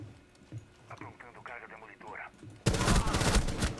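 Gunfire in the video game Rainbow Six Siege, a dense loud burst of shots erupting in the final second after a stretch of a player talking over quieter game sounds.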